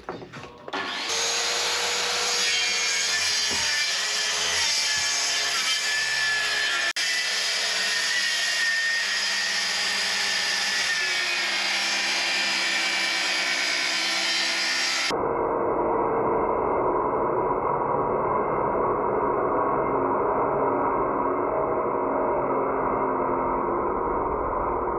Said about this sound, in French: c'est parti pour la découpe du plan de travail.